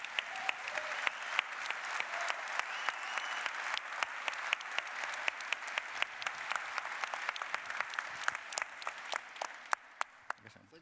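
Sustained applause from a large keynote audience, dense and steady clapping for about ten seconds that thins out near the end.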